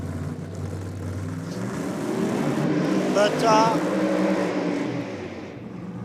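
A drag racing car revs in the staging lanes at a NSW Championship Series drag meet, its engine note climbing and swelling to a loud peak before easing off, with someone talking over it.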